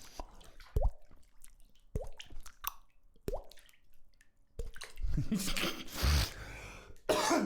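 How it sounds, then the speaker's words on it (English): Scattered mouth clicks and small knocks lead into a cluster of close, harsh coughs near the end, with no speech. "Excuse coughs."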